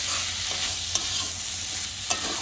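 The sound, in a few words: masoor dal being fried and stirred in a pan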